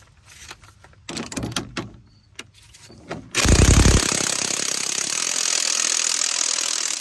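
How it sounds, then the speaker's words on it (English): An impact wrench drives the sway bar link bolts on a Chrysler 300. A few sharp mechanical clicks and clanks come first, then a loud, steady, close rattling whir that lasts to the end. "then you got to do it in with the ratchet or impact"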